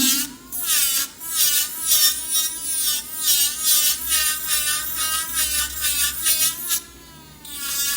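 Electric nail drill with a bit filing down a polygel nail, a high whirring grind that rises and falls in repeated back-and-forth passes, close and steady, with no talking.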